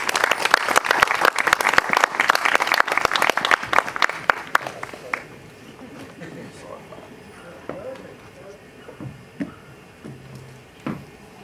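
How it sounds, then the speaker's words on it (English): An audience at a café evening event claps loudly for its speakers, dense applause that fades after about five seconds into scattered claps and quiet room noise. "round of applause for all of our speakers"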